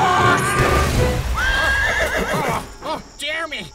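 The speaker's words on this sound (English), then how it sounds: "I'm gonna hit that fucking horse!" A horse in a video game gives a loud, shrill whinny over steady hoofbeats, followed by shorter neighs as the galloping fades, with a voice talking during it.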